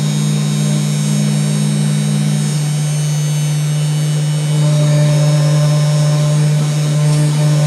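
Genmitsu 4040 Pro CNC router running, a loud, steady electric motor whine with a constant tonal hum whose pitch shifts slightly partway through, continuous and close with no talking.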